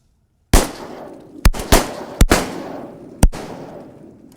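Shotgun blasts at teal coming into decoys on a duck hunt: six sharp, loud reports in quick succession, some nearly doubled, each trailing off in a brief echo.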